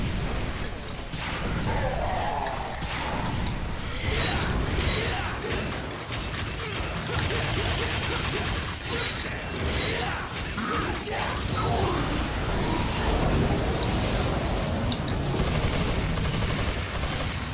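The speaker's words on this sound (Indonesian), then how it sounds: "Nembak dari jauh." Dense gunfire and clattering weapon mechanisms in Devil May Cry 4, rapid bursts with crashing impacts running continuously and loudly throughout, with occasional player voice on top.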